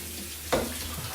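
A kitchen tap suddenly opens halfway through, sending a gush of running water into the sink for rinsing while making a sushi cake; the splash is strongest at the start, then continues as a steadier, softer flow.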